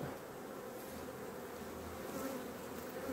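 Honeybees buzz around an open hive during a colony inspection, a soft, steady, swarming drone that continues without a break and stays faint and fairly distant.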